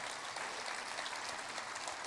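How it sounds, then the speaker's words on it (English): An audience applauds at a live music show in Nashville, a steady, even wash of clapping from a crowd that fills the brief moment without pause or speech. "let's give everybody a big round of applause for helping us out"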